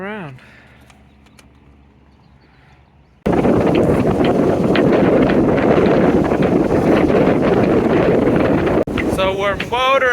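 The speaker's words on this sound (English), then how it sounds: "So we're motoring into Seattle right now" A sailboat motors toward Seattle in heavy wind. After a quiet stretch with a voice speaking briefly, loud roaring wind buffets the microphone continuously, and a voice comes back near the end.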